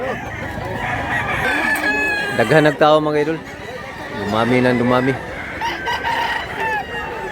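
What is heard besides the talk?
roosters crowing at chicken market, Mantalungon Cebu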